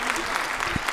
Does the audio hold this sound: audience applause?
yes